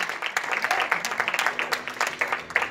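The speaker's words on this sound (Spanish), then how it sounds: "Denle un aplauso al Señor porque lo queremos" A church congregation applauds during a sermon, a steady mass of clapping with some sharper claps standing out, moderately loud, with voices faintly mixed in.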